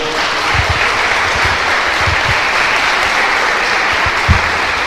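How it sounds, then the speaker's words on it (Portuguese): A church congregation bursts into sustained, dense applause during a Portuguese-language sermon, steady and loud across the whole stretch with a few heavier claps standing out near the front. "Você pode dar uma salva de palmas para o Senhor?"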